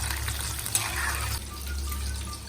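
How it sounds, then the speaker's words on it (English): Prawn fritters, or bhajiya, deep frying in hot oil give off a steady close sizzle and crackle that holds at an even level throughout, with no talking. "So just make sure you're spending time just frying them evenly."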